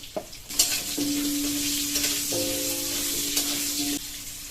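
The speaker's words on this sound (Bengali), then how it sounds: "আলুটা এই সাইডে ভাজা হতে থাক" Potatoes seasoned with salt and a little turmeric frying in a pan, with a continuous close sizzle and a few stirring scrapes at the start, and no voices.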